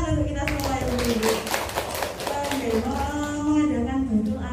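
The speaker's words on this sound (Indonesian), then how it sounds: "Tepuk tangan untuk kita semua ibu-ibu." A room of women at a Baitul Arqam gathering claps together, a rapid patter of hand claps mixed with cheering voices and chatter, moderately loud and continuous.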